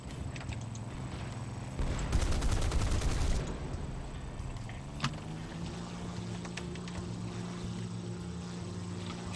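A single loud burst of rapid automatic gunfire in War Thunder, about a second and a half long, over a constant aircraft engine drone with a lone faint pop afterward.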